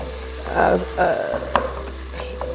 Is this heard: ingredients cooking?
yes